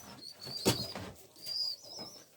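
A three-year-old short-faced almond pigeon, thick in the molt, at a breeder's loft in Dundee, Scotland, gives soft, close coos. A brief flutter of wings breaks in partway through.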